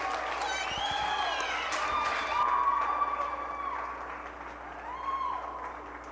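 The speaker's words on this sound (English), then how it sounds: "Let's give him a big round of applause" Audience applause and cheering in a county fair show ring for the 4-H swine showmanship champion, a steady mid-distance crowd clapping across the whole stretch with shouts and children's voices mixed in.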